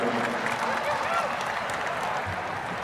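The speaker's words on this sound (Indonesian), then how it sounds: "Tepuk tangan untuk Bu Mega." A large crowd at a political rally during a metal concert in a stadium applauds steadily, a broad sustained roar of clapping and crowd noise, with a voice faintly audible under it.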